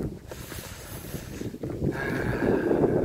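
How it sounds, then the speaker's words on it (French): Wind buffeting the microphone in rumbling gusts, growing stronger toward the end, with a faint outdoor hiss behind it. "Il y a du vent, je sais pas si ça va passer le son."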